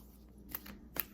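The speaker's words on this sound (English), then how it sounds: "A few more shuffles" Tarot cards riffled in a few quick shuffles, two brief crisp bursts of card flutter close by in an otherwise quiet room.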